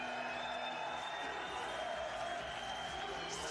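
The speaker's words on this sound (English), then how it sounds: "Still the crowd are chanting and cheering." A packed arena crowd at a Dublin mixed martial arts championship bout roars and chants in a sustained wash of noise beneath an excited commentator's voice.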